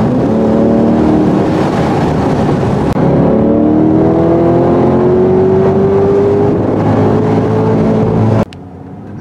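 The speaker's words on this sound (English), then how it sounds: "Having the healthy roar of that V8 engine makes it even better." A 2021 Chevrolet Corvette Convertible's V8 engine roars loudly as it accelerates, its pitch climbing steadily through the gears before cutting off abruptly near the end.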